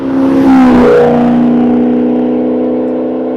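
A Maserati GranTurismo Sport coupe in Sport mode revs hard, a loud close engine roar that rises sharply and then settles into a sustained, slowly fading drone.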